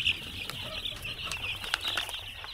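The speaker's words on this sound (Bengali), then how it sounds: "দেখেন মুরগির বাচ্চাগুলো ঘুমাচ্ছে।" Layer chicken chicks in a brooding pen on a small home farm keep up a steady, close chorus of high peeping and cheeping, with no talking.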